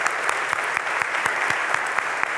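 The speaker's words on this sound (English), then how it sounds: "And can we give a round of applause?" Audience applause at a book festival opening celebration, a dense, steady clapping from a crowd heard throughout without any voices.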